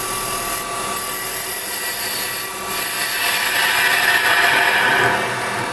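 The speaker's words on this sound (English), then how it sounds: "I'm going to use my square chisel just to clean that up" A square carbide chisel works a resin bowl turning on a lathe, giving a steady whirring scrape over the motor's hum that grows a little louder and brighter partway through, close up and with no one talking.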